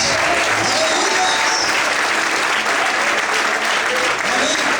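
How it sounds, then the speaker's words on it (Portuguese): A church congregation applauding during a sermon, producing dense, loud and continuous clapping that fills the whole stretch, with voices mixed into the crowd noise. "Será que você pode aplaudir Jesus?"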